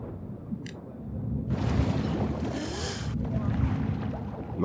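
Boat engine in the video game The Last of Us Part II, a low churning motor rumble with rushing water and wind noise building steadily, faint game sound effects alongside.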